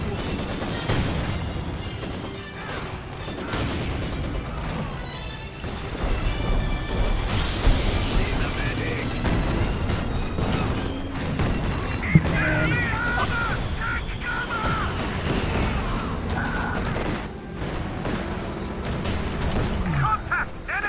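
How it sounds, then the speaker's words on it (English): Gunfire and battle noise from Company of Heroes 2, a steady dense wash of shots, bursts and explosions throughout, with players talking over it. "Contact! Enemy fire!"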